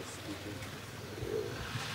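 Soft, low racing pigeon coos from pigeons on a roof come in a couple of brief calls, faint and somewhat distant against a quiet background hum.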